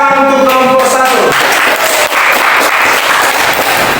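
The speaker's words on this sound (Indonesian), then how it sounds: "Tepuk tangan untuk kelompok 1" Classroom applause for a student group during a maths lesson, loud brisk clapping from many hands that rises after a held tone and continues to the end.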